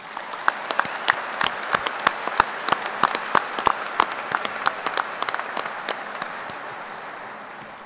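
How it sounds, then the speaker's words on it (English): A large audience at a spring graduate school commencement ceremony bursts into sustained applause, dense, crisp clapping that rolls on steadily for several seconds with no talking. "Please join me in giving our platform party a round of applause."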